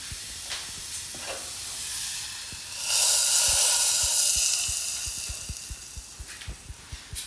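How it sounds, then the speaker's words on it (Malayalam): Small onions sautéing in coconut oil for a Kerala kadala curry, a steady broadband sizzle and hiss that swells louder midway, with faint clicks of a spoon against the pan near the end. "ഇനി വെളിച്ചെണ്ണയിൽ നമുക്ക് ചെറിയ ഉള്ളി വഴറ്റിയിടാം"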